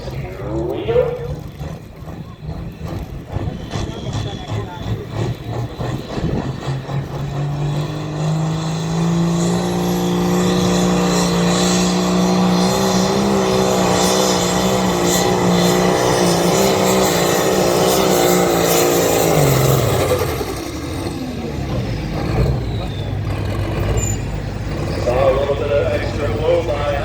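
A turbocharged pulling tractor roars loud and close at a grange tractor pull, the engine rising into a sustained heavy drone before cutting back, with an announcer talking over it.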